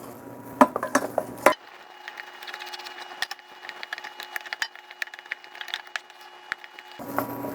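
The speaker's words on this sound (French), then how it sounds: "on va mélanger sans cesse de façon à ce que notre pâte à choux dessèche et forme une boule homogène et lisse" Choux pastry dough is stirred continuously in a pan to dry it out, making soft, irregular wooden scrapes and small taps. A few louder knocks open and close the stretch.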